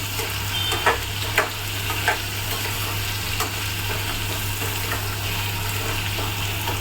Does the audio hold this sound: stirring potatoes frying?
yes